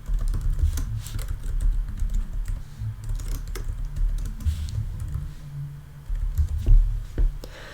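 Steady, fast typing on a computer keyboard fills the whole stretch with close, dense key clatter. The rhythm is uneven, with a few louder strikes, and no one talks over it.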